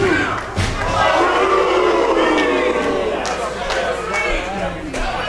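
A wrestling crowd at a TV wrestling show chants the rhythmic 'Whoomp, there it is' cheer, loud, massed voices filling the arena with shouts and a few thuds, continuous throughout.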